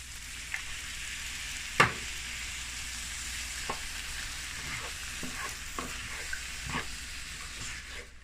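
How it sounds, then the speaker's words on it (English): Jamaican curry fish sizzles steadily in a pan as coconut milk goes in, a constant close frying hiss with occasional soft knocks and stirring clatter. "I'm gonna add half can of this coconut milk."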